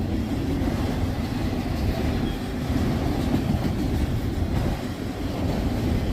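A CSX freight train rolling past on a windy day, a loud, continuous low rumble and rattle of cars with faint rhythmic wheel clatter, no talking.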